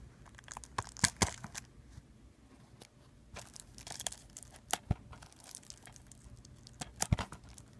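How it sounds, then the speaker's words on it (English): Small scissors snip and cut through the plastic shrink-wrap on a DVD case, making scattered crisp crinkles and tearing crackles in short bursts amid quiet handling. "So let me get my little scissors here again."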